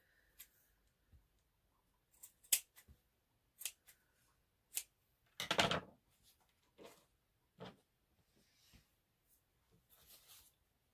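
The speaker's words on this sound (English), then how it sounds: "I'm going to trim those ones so they're all about the same length" Scissors snipping yarn strands to an even length while making a yarn feather, a series of sharp, close, isolated cuts spaced unevenly in an otherwise quiet room.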